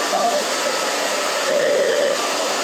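A hair dryer blows steadily on hair during a salon cut and style, a loud, continuous whirring airflow whose pitch shifts slightly as it moves back and forth, with no voices.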